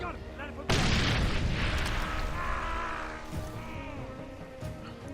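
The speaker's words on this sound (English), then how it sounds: "Here's a grenade for you." A grenade blast in Far Cry 2, one sudden loud explosion followed by a long rumbling decay amid ongoing game sounds, with someone talking nearby.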